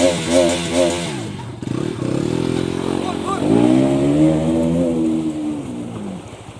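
A KTM NS200 motorcycle engine revving while ridden, with rising and falling harmonic engine tones that drop briefly then climb again, loud and close, under faint background talk.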